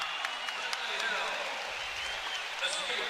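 Crowd applauding and cheering at a college wrestling match between Iowa and Columbia, a steady broad wash of clapping with scattered sharper claps, some talk mixed in.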